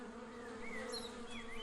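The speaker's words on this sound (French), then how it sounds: "les rayons de miel défendus par ces milliers d'abeilles" A dense, steady buzz of thousands of honeybees swarming close by at their hive, with individual insects droning past over the hum.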